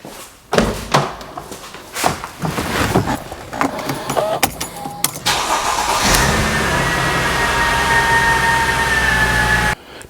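Mercedes car, cooled down after a hot no-crank fault: clunks and a slam come first, then the engine cranks and starts and settles into a steady, loud running hum.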